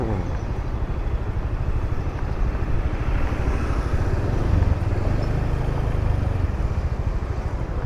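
Motorbikes riding against traffic on a one-way city street in Ho Chi Minh City, heard as a continuous close engine drone and road rumble that holds steady and loud throughout, with no talk.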